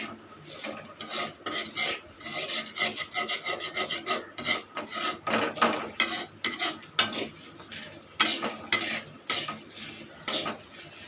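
Coconut roasts in a pan over a low flame, stirred with rhythmic rasping scrapes of a utensil against the pan, close and irregular, with no voices.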